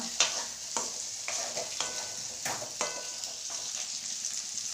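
Onions and tomatoes sauté in a pan for a roasted-spice chicken curry, a bright continuous sizzle with rhythmic spoon scrapes every half second or so, close and clear.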